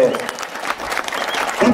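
Crowd applause at a bullfight in San Felipe Tepemaxalco, steady and moderately loud clapping from the stands over about two seconds, with voices mixed in.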